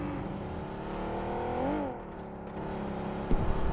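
A car driven in the mobile game Battlegrounds Mobile India, its engine humming steadily with a brief rising rev midway and a sharp knock near the end, heard alone without voices.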